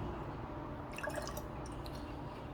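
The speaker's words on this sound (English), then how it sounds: "So pour the hazelnut coffee here." Hazelnut coffee is poured into a cup of ice, giving a faint, close trickle with a brief burst of small drips and splashes midway over a quiet background.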